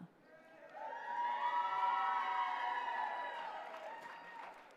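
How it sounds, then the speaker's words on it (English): A crowd at the 2024 Gathering of Nations Pow Wow cheers and applauds for a contestant from Atmore, Alabama, with the noise swelling after a quiet start and holding steady before easing off toward the end. "We'll give a moment to cheer for Alabama."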